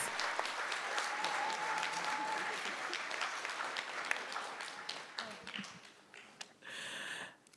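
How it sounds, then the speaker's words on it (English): Students receive a round of applause from an audience at a school event, sustained clapping that gradually thins toward the end, followed by a brief burst of other sound. "Another round of applause."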